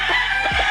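A six-month-old stag chicken makes a short, loud clucking call in a backyard flock, a brief close burst with no speech.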